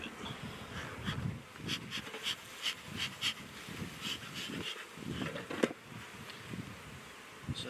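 Honey bees hum around an open hive frame during a hive check, a faint, uneven buzz with scattered clicks and soft breathy handling noises close by.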